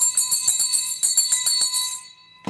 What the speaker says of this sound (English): We all need to start ringing our bells